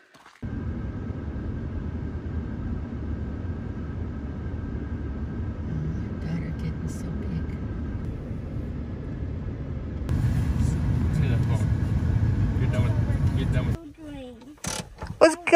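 A car driven along a road near the south end of the Okanogan Plateau gives a steady low engine and road rumble that swells louder partway through, then drops away near the end as other noises and a voice come in.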